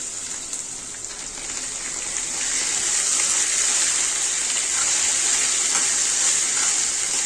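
Diced potatoes and urad dal fry in hot oil with a steady, bright sizzle that swells louder partway through and then holds, close and unbroken, with no voices.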